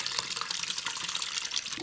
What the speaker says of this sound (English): I'm going to pour the whey into the cheesecloth.